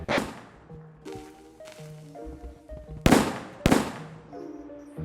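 Sharp cracking bursts and bangs of fireworks pop irregularly over a background of synthetic game music tones, in the video game Escape the Backrooms.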